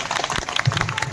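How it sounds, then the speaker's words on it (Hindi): Brief burst of audience applause at a district hospital Republic Day program in Moradabad, honoring the medical superintendent; dense, noisy clapping fills the short moment without clear speech. "जोरदार तालियां बजा दीजिए एक बार।"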